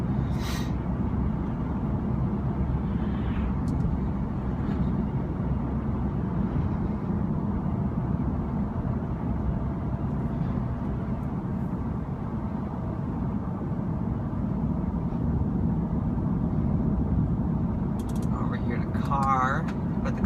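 A 2015 Audi S3 engine during a test drive, not yet warmed up: a steady low drone of engine and road noise for twenty seconds, with brief light sounds near the end.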